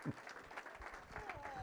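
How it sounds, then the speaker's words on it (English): Audience at a Friday auction claps in a short burst of applause, moderately faint, with voices mixed in beneath the clapping. "How about a round of applause for Miss Vicky?"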